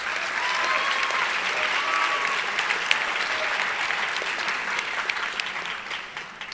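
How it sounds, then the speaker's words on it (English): At the Manatee High School JROTC awards ceremony, an audience applauds the drill team for reaching states, with steady, even clapping from a large crowd that tapers slightly at the end. "so give them a round of applause"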